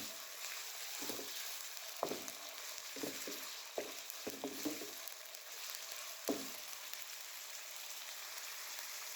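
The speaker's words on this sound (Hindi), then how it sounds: "मैं इसमें अच्छे से फ्राई करूँगी।" Small pieces of chicken fry in a pan, making a soft, steady hiss punctuated by irregular knocks and scrapes of stirring, fairly quiet and without any talk.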